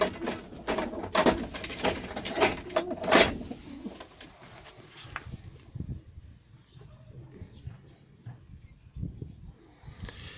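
Pet pigeons coo nearby in bursts of soft, throaty calls during the first few seconds. Quieter handling and rustling noises follow, with a few faint coos near the end.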